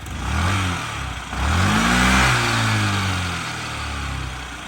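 A small fuel-injected Yamaha Jog SA 55 scooter engine runs close by, revving up twice with rising pitch and then settling into a steady putter.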